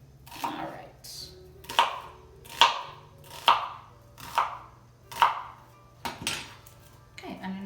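A knife chops onions on a cutting board in about eight distinct, evenly spaced strokes, each a crisp close thud with a short ringing tail, heard clearly with no talk over it.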